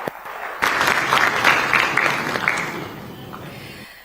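A TV studio audience at an India TV election forum applauds loudly to welcome a political guest. The clapping bursts in after a brief pause, stays strong for a couple of seconds, then gradually fades away.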